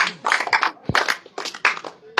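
Villagers clap for a player at a rural strength challenge, a few short bursts of claps broken by gaps, fairly close, with voices mixed in.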